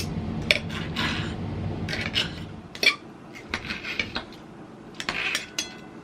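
A knife cuts garlicky broiled octopus into bite-sized pieces on a board, giving uneven scrapes and clinks that come in short clusters and sound close up.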